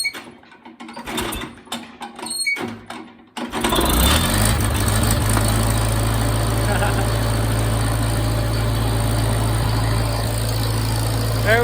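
A vintage Farmall Cub tractor is hand-cranked in cold weather at 32 degrees. A few sharp cranking clatters come first, then the engine catches and settles into a loud, steady, close idle with a rhythmic low chug.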